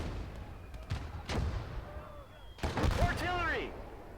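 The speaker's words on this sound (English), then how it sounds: "Artillery." Artillery fire booms in a World War II tank video game, a few heavy distant-sounding blasts spaced apart, with a louder cluster of impacts near the end and faint game sounds between.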